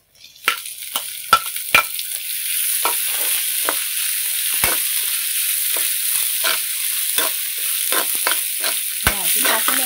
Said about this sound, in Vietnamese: mình cho củ cải muối vào nha.